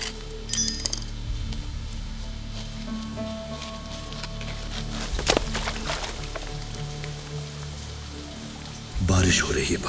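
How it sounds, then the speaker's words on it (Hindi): Steady rain falls outside, heard from indoors as a soft, continuous patter, with a few faint clinks and a louder gust of rain noise near the end. "बारिश हो रही है बाहर।"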